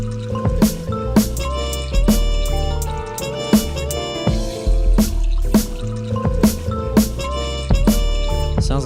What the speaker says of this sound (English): Sounds like somebody's pouring some ice cold tea in this track.